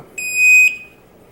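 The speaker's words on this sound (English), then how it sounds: "So it's just beeping because it's turning on." A single sharp, high-pitched electronic beep from a Kwikset SmartCode 911 touchpad door lock powering up, lasting about half a second, loud and close, followed by quiet.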